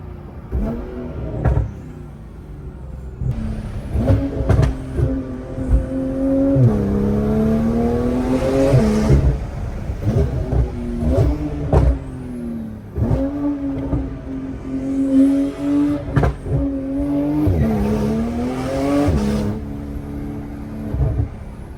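A car engine with a newly fitted exhaust system revs and drops repeatedly with a deep, rumbling, diesel-like exhaust note, loud and close, gear changes breaking up the steady roar.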